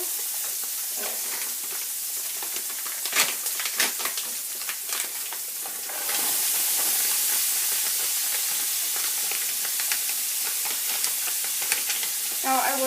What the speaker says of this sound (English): Turn this down because it's starting to overboil.